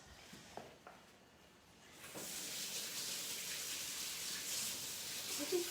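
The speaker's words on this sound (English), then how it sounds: "I'm just going to wash my hands." A tap runs for hand washing in a home kitchen, a soft steady hiss of water starting a couple of seconds in and continuing faintly and evenly, after a few small clicks.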